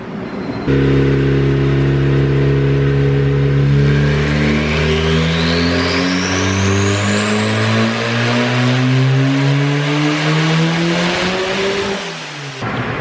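A turbocharged D16Y7 engine in a Honda Civic, running without VTEC, revs hard on a dyno, its rising harmonics sweeping steadily upward for about eleven seconds before it cuts off abruptly.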